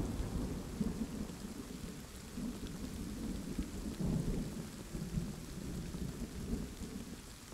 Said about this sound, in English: There's lightning soon.